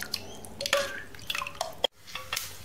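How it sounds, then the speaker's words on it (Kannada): Half a glass of water poured into tambuli, a leafy-shoot yogurt dish, giving a few wet splashes and drips against a pot with a brief clink, then a short silence and fainter liquid movement. "ನಾನೊಂದು ಅರ್ಧ ಗ್ಲಾಸ್ ನೀರು ಸೇರಿಸ್ತೇನೆ."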